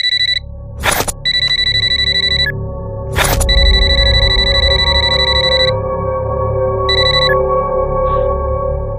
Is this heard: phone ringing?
yes